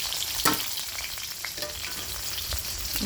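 Chopped onion, garlic and green chili fry in hot oil, giving a loud, steady sizzle with bright crackles and pops, close up and with no talking.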